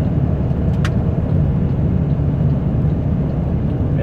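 Car engine droning steadily from inside the vehicle while overtaking on a road, a loud continuous low rumble with road noise and no talking.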